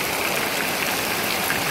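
Heavy rain pours down while floodwater rushes, forming a dense, steady wash of hiss and splashing that never lets up over the short stretch.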